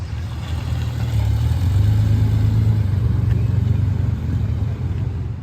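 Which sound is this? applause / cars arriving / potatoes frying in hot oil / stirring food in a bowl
cars arriving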